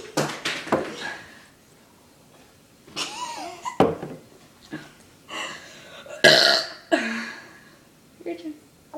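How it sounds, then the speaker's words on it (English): A series of loud, close burps in a burping contest, some long and croaky and some short, arrive in separate bursts with gaps between them. There are a few vocal sounds between the belches. "I have to burp."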